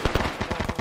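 Rapid burst of automatic gunfire in a Vietnam-era Arma jungle firefight, about eight sharp close shots in quick succession over under a second, loud and without talk.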